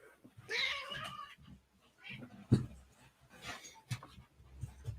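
An orange house cat meows indoors, a few short cries and a drawn-out wail at close range, with quiet gaps and soft rustling between them.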